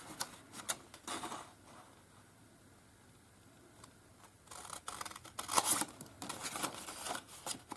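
Scissors snip through paper while an Easter basket is being made, giving a few short, quiet crisp cuts and rustles in a scattered rhythm with a louder burst near the end.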